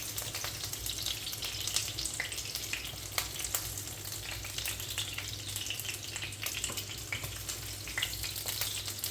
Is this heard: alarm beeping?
no